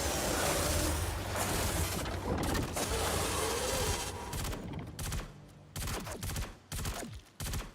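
Loud, dense bursts of video game weapon fire, a near-continuous rattle at first, then breaking into short separate volleys with gaps as the gun reloads.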